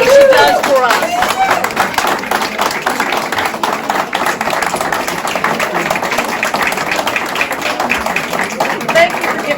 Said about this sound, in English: I think we need a round of applause for Joanne for everything she does for us